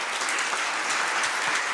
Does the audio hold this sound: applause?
yes